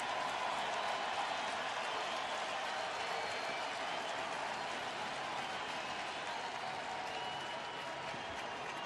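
A World Series Game 3 crowd on a cold night roars and cheers steadily, a dense wall of distant voices and clapping that holds loud throughout with no break.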